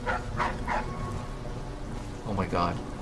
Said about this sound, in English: Oh god, there's a dog.